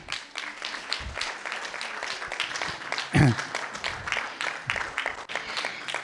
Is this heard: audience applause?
yes